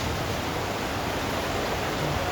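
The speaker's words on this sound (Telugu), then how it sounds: "ఇదిగోటి వర్షం ఎలా పడుతుందో మీకు చూపిద్దామని" Heavy monsoon rain falling hard around a house, a loud, unbroken broadband roar with no distinct drops or voices.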